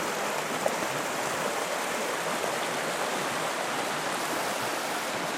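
Creek water in the Northwest Territories running past a large boulder, a steady, dense rushing and burbling that stays even and close throughout, with no talking.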